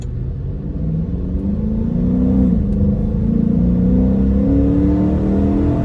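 A 2016 Dodge Charger R/T accelerating hard from a stop, its engine rumbling and rising steadily in pitch as it pulls through the gear, heard loud from inside the car.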